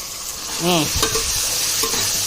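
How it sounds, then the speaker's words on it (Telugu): Chicken pieces sizzle steadily in a hot pan while a utensil scrapes and stirs spices through them a few times, close and clear. "ఇవన్నీ వేసుకుని ఒకసారి తిప్పుదాం"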